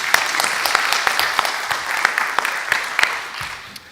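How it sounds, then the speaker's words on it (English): School district staff applaud the board at a meeting, a close, busy patter of many hands clapping with sharp individual smacks, steady for several seconds and tapering slightly at the end. "So staff, let's give the board a round of applause."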